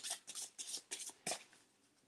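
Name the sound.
shuffling slippery talisman cards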